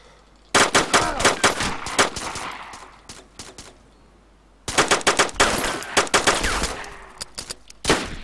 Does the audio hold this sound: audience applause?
no